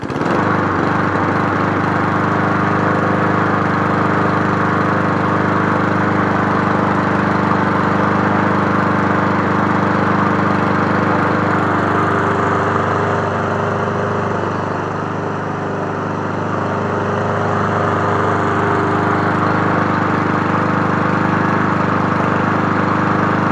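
A Cub Cadet SC 300 lawn mower engine runs steadily and loudly throughout, with a constant drone and a brief dip in intensity midway, and no talking over it.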